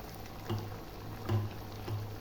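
Sabudana vada (sago fritters) frying in hot oil, a soft steady bubbling sizzle with a few louder pops rising at intervals, close and moderately quiet with no talk.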